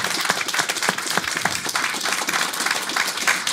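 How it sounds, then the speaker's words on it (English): An audience at a public debate breaks into applause, a dense, sustained clatter of many hands with a few louder individual claps. "Round of applause."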